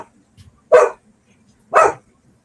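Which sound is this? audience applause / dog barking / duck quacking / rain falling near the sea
dog barking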